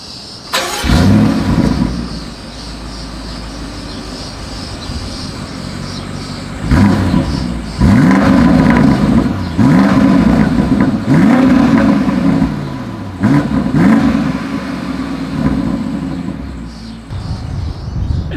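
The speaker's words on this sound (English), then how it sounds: "As always, here is that exhaust clip." A deep V8 exhaust on a 2020 BMW X7 SUV fires up and revs repeatedly, loud rising and falling blips of throttle between a rumbling idle, close by.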